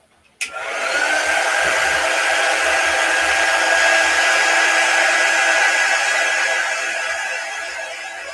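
A hair dryer clicks on and runs at a steady loud whoosh with a faint whine while drying a craft transfer on a haunted-house papercraft project, continuing for several seconds close by, alone with no talking.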